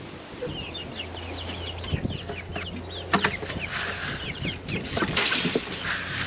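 Chicks and chickens are being fed, producing high peeping chirps and clucks in a busy overlapping chorus, close by, with a few louder bumps and rustles mixed in.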